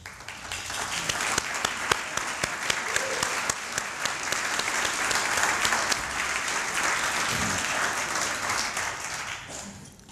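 An awards banquet audience claps for about ten seconds, a dense, steady wash of applause at moderate level with no break.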